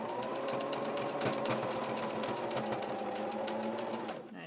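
Sewing machine running steadily at a wide stitch setting as it sews a fabric patch onto denim jeans, a continuous close mechanical whir that stops abruptly near the end.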